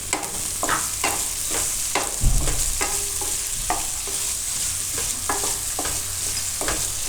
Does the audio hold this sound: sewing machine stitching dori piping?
no